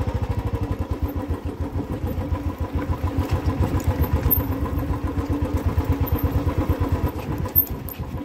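A motorcycle engine runs close by on a hill trail, with a steady, rapid thumping rhythm at a fairly even idle throughout and no voices.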